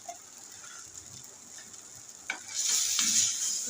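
Eggplant pieces coated in masala sit in a pan with a faint, quiet sizzle, then a scrape and a sudden swell into a louder, hissing fry near the end.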